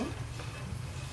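Cashews dry roasting and being stirred in a pan for date and dry fruit laddoos, giving a steady soft scraping rustle with a low continuous rumble, alone and close.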